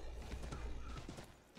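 Horse hooves clip-clopping in the video game Assassin's Creed III, a steady run of soft thuds under game ambience with a faint whinny near the end.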